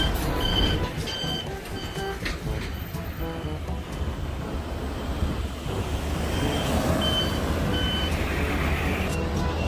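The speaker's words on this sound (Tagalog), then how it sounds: "May malaking sasakyan." A large truck passing on a street with steady reversing beeps, heavy engine rumble and traffic noise continuous and loud throughout.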